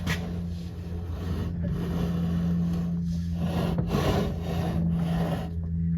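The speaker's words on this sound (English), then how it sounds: "What is that rubbing? I think it's the hole in the firewall." A steering box on a 1976 4x4 camper van rubs against the hole in the firewall, giving a continuous scraping, rasping friction that runs the whole time over a steady low mechanical hum, close by and with no talk.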